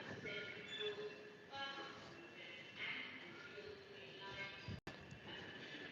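A train at the terminal stop of the c2c line near Tower Bridge, London, gives a steady, low, muffled rumble with faint squeals, heard at a distance and fairly quiet throughout.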